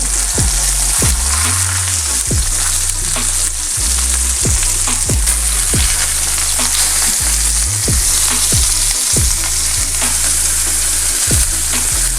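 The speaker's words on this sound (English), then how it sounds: "let's go ahead and flip these steaks and see what we're looking like" Ribeye steaks searing in a hot pan, a loud steady sizzle and crackle throughout, punctuated by repeated sharp clicks and scrapes of handling, with no talking.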